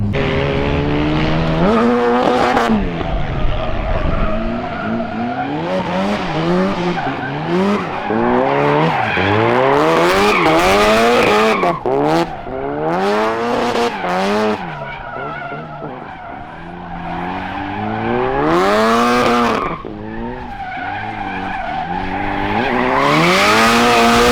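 Turbocharged Nissan 240SX drift car running on E85 fuel, with the engine revving hard and rising and falling in pitch as the tires squeal and skid in long sustained slides, loud and close throughout.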